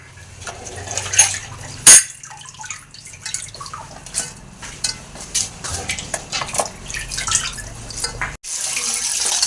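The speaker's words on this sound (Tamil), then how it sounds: "இதை வந்து ரெண்டு மூணு தடவை கழுவிட்டோம்னா க்ளீன் ஆகிடும்" Fish being washed in water in a kitchen, with splashing, dripping and sloshing plus occasional clinks of a vessel, close and fairly loud, without speech.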